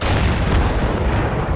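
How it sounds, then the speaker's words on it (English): A vehicle-mounted cannon on a wheeled, tank-like vehicle fires in the video game Total Conflict: Resistance, a loud, heavy booming blast with deep rumble filling the whole moment, close and sustained without talk. "That is a fat cannon."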